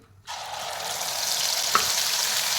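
Spice paste hisses and sizzles in hot oil with a small bay leaf and a piece of cinnamon for a spicy potato curry, a steady close frying sizzle that starts suddenly and continues throughout, with one brief clink.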